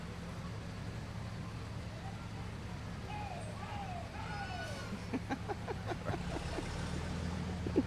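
Santa's parade truck number 1 rounds a corner during the downtown McMinnville, Oregon Christmas parade, a low, steady, distant engine rumble beneath an outdoor crowd and talking.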